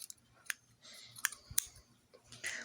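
Metal scissors scrape and click against the plastic faceplate of an exit sign on a public building wall, several sharp separate snaps and taps at close range over a faint background hum.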